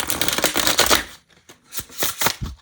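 Linen-finish playing cards riffle-shuffled up close, a dense fluttering burst followed by a few short bridging snaps and riffles.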